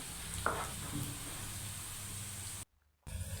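Sliced onions frying in oil in a pan until lightly golden, a steady soft sizzle with a stir or two, then a brief cut to silence before the sizzle resumes.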